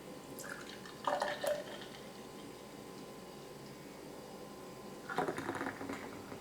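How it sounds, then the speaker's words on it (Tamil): Thick milkshake poured into a glass in two short, soft bursts of liquid gurgling and dripping, separated by a quiet pause. Both bursts are faint and close. "இப்போ நம்ம கிளாஸில் சர்வ் பண்ணிக்கலாம்."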